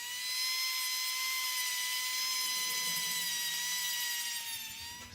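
A Dremel rotary tool roughs up holes in a jetski pad, whining at a steady high pitch, close and loud for the whole stretch, then easing off at the very end.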